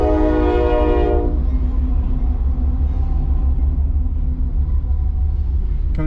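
A CSX freight train passes near Athens, Georgia, its horn blaring a loud sustained chord for about a second before it cuts off, leaving a heavy continuous rumble of rolling wagons close by.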